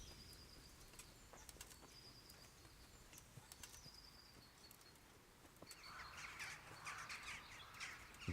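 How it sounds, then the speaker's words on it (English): Crows cawing and wings flapping in the medieval video game Kingdom Come Deliverance, with repeated calls over a low ambient bed and a fuller burst of flapping near the end. "Birds, get up."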